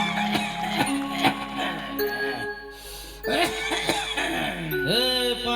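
A man on a comedy stage coughs and clears his throat in repeated rough bursts, close and loud, with short vocal sounds and a rising whoop near the end.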